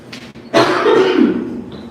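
A single loud, rough cough up close, trailing into a raspy exhale after a few faint breathy sounds.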